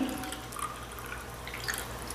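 Tap water from a household faucet dripping and trickling steadily into a container during a home water test with tomatoes, a soft continuous splashing with small drips, close and fairly quiet, no voices.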